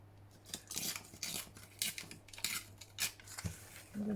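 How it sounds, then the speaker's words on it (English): Paper being torn off along a tear ruler at a crafting table: a series of short, quiet rasping rips and scrapes coming in irregular bursts, close and faint, with no talking. "I'm going to tear that"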